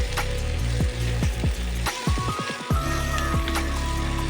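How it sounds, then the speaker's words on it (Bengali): Shredded cabbage sizzles steadily in hot oil in a pan, with a spatula scraping and knocking against the pan in a quick rhythm as it is stirred. "বাঁধাকপিটা একটু দিয়ে প্রথমে নাড়িয়ে দেবো তারপর বাকি বাঁধাকপিটা পুরোটাই দিয়ে দেবো ভালো করে এটাকে নাড়াচাড়া করব"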